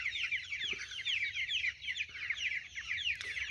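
A group of chickens clucks and chirps continuously, close by on an autumn evening, with overlapping calls in a busy, steady chatter.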